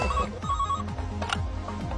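Telephone ringing: a harsh electronic ring repeats in rapid bursts over a low background, steady and fairly loud for about two seconds, with no voices over it.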